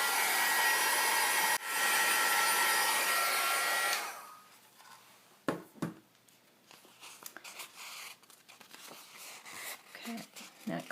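A hair dryer blows a steady, loud broadband rush for about four seconds while it dries Mod Podge on an index card. It cuts off abruptly, leaving quiet rustling and small handling noises.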